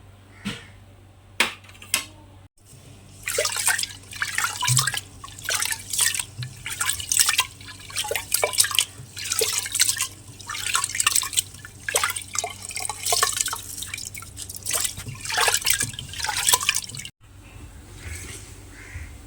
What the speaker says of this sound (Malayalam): ആ സമയത്തേക്ക് അരി കഴുകി വരട്ടെ.